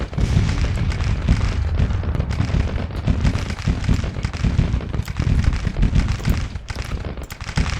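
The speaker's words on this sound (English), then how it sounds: "Let's see if this artillery has the range." Artillery fires in a video game set during the American Civil War, a dense, continuous barrage of heavy booms and rumbling blasts played loud throughout with no talk.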